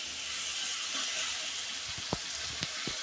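Cut potato and eggplant pieces fry in a pan with a steady, close sizzle, joined near the end by a few sharp clinks or stirring knocks.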